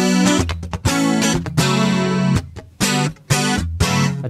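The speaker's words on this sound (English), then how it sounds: "a tone that uses the synth oct" Electric guitar played through a synth octave effect, loud distorted synthy chords and stabs in choppy bursts with short gaps, heard alone without talking.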